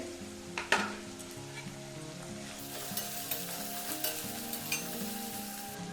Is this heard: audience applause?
no